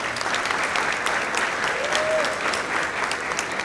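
Audience applause fills a football banquet hall at San Benito, a steady, dense wash of many hands clapping at moderate loudness that holds evenly throughout, with a brief whistle-like tone rising briefly in the middle.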